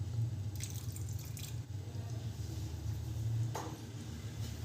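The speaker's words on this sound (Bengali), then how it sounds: "আর দিয়ে দেবো জল" Room-temperature water goes into a chutney mixture of salt, ground chickpeas and nuts for dosa and idli, giving a faint, soft trickle and drip over a steady low hum, with no voices.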